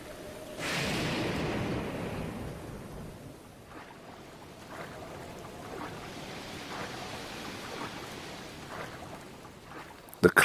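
Rain falling in Hyrule in the game Breath of the Wild, a soft steady hiss of rainfall with a swelling whoosh early on and faint distant rumbles, gentle and quiet throughout.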